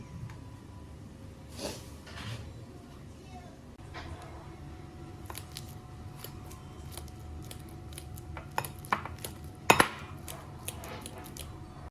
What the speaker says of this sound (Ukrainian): тофу також буду розминати вилочкою